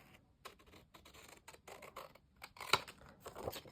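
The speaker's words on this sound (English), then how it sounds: "I'm going to take my scissors" Scissors cutting along pencil lines on a sheet of paper, with quiet, close, irregular snips and crisp rustling slices in quick succession, alone without talk.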